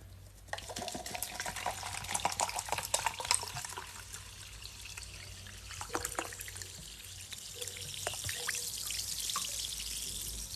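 Homemade sparkling water pours and fizzes quietly, with small trickles, drips and crackling bubbles over about ten seconds in a quiet room, with no talking.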